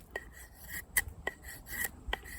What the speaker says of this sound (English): If I don't press too hard, it will take off nice shavings.